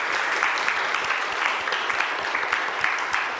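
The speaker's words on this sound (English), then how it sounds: "if you could give them a round of applause as well, that would be fantastic." An audience at a Bi Pride UK 2022 stage gives the volunteers a steady round of applause, dense continuous clapping held at an even level throughout with no voices over it.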